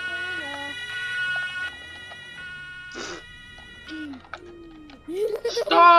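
A wailing police car siren in a Roblox emergency game set in Hamburg rises and falls in tone, sounding under and between voices talking over keyboard clicks.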